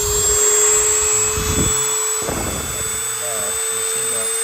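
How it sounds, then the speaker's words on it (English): A Dremel rotary tool sharpening chainsaw teeth gives a steady high-pitched whine throughout, while a person talks over it. "Fire up the Dremel."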